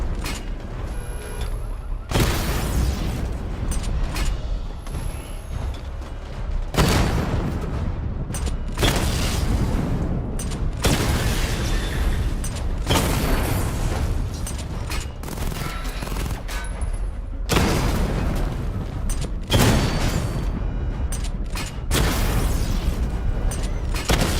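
Missile barrage in Batman: Arkham Knight, a dense continuous rumble of rapid-fire launches and booming explosions in repeated waves, loud and sustained with mechanical clatter throughout.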